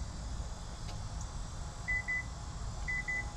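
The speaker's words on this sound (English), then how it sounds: "it's gonna do a faster beep." Kia Carnival 2022 minivan emitting repeated short electronic beeps in pairs, a quick double beep, a pause, then another quick double beep, clear against steady low background rumble with no talking.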